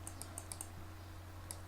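Someone types a web address on a computer keyboard in a quiet room over a low electrical hum, with a quick run of five light key taps and then one more tap after a pause.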